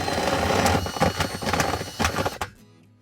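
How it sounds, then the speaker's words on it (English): A power drill with a hole-opening bit boring a hole for a Rain Bird garden irrigation system, a close, loud whirring grind with rhythmic pulses that cuts off abruptly near the end. "I'm just gonna use a drill bit that kind of, I don't know what you'd call that, but it opens up this hole perfectly"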